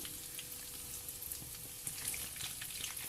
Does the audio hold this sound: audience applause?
no